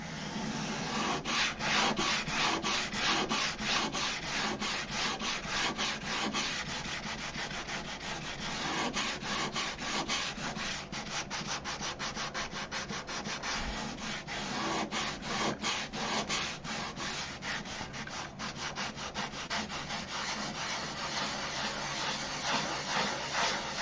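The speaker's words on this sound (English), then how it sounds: "Let me know if you guys can hear that different tone that's in the sanding" Sandpaper scrubs steadily across painted airplane covering in a continuous, close, rhythmic rasp that never pauses and carries no talk.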